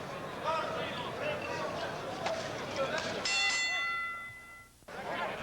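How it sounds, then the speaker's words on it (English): A boxing round bell rings out clearly at the Jimmy Young vs Ossie Ocasio fight, over a noisy arena crowd and a commentator's voice, its tone hanging for about a second before cutting off. "You'll hear the bell in 5 seconds."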